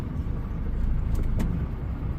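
DAF HGV tractor unit pulling forward away from its trailer, a steady low diesel engine drone close by with a couple of brief faint clicks or hisses partway through.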